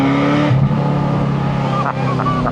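Ferrari 348 Spider engine while driving, a loud steady drone heard from inside the car, pitch holding even with a slight shift partway through, with brief speech-like bits on top.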